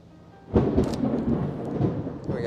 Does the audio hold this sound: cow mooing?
no